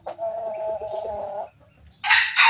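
A young rooster, a cross between a bantam hen and a red junglefowl sire, gives a short, close crow, then a brief harsh squawk at the end.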